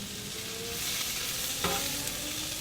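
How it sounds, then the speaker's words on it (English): Peppers, onions and mushrooms sauté for a Philly cheesesteak, a steady close sizzle with a brief stirring scrape partway through, heard alone without voices. "He's putting peppers and onions and mushrooms, just sauteing those for our Philly cheesesteak."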